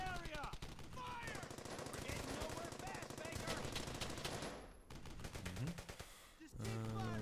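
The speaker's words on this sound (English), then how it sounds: "MG team. Get over here, deploy," A machine gun team lays down suppressing fire in the video game Brothers in Arms: Hell's Highway, with rapid, sustained bursts of automatic fire mixed with other gunshots and a brief lull partway through.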